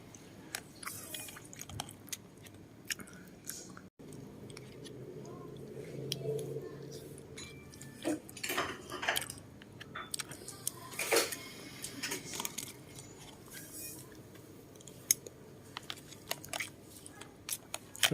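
Someone eats American fried rice with soft lava-style scrambled egg and sausage, with close chewing, spoon clinks against the container and occasional crunches. A voice talks at times between the bites.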